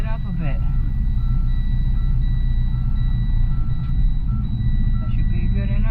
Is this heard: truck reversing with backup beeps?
yes